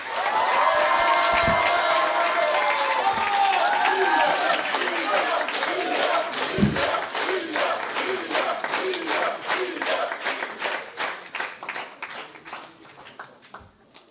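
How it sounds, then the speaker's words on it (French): Loud audience applause and cheering fill a hall at the grand final of a French parliamentary debate competition between HEC and Assas, dense clapping throughout that gradually thins toward the end. "Je pense qu'on peut les applaudir à nouveau bien fort."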